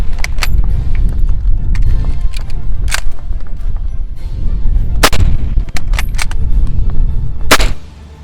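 A Gewehr 88 rifle fires several sharp, loud reports at irregular intervals outdoors, each crack followed by brief rumbling echo and the clack of the bolt being worked between shots.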